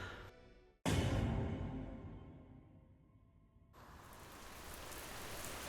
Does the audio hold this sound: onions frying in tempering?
no